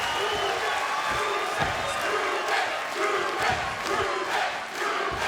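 Wrestling crowd at the Impact Zone cheers and roars steadily throughout, a thick wash of voices with sharp bursts and thumps rising from the arena.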